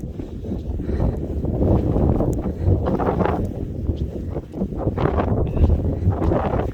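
Steady gusting wind buffets the microphone on a mountain path in Snowdonia, Wales, a continuous low roar that swells and dips without pause.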